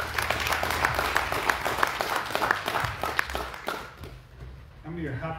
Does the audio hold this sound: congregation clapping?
yes